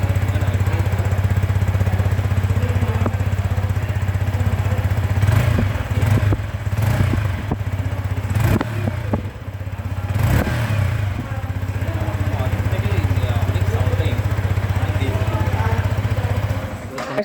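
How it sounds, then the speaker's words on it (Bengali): A Yamaha R15 V4 motorcycle engine idles with a steady low mechanical drone, a few brief revs and clattering bursts in the middle, while someone talks over it. "R15V4 এর ইঞ্জিনটা চলো শুনে নিই"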